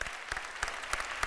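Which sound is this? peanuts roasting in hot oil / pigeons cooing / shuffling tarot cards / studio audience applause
studio audience applause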